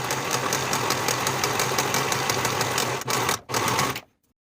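A sewing machine runs in fast bursts while finishing the raw edges of back bodice pieces, with a steady rapid stitching chatter, a brief pause near the end, then a stop.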